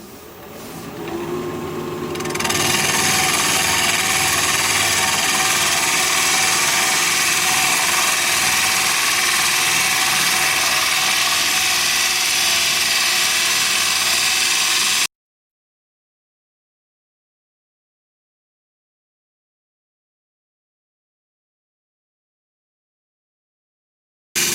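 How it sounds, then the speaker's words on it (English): A wood lathe spins a bowl at 1200 RPM while a freshly sharpened 5/8 inch bowl gouge cuts into it. A loud, steady whirring, scraping roar kicks in after a quiet start, runs unbroken for about twelve seconds, then cuts off abruptly. "We're going to be turning at 1200 RPM, freshly sharpened 5/8 inch bowl gouge"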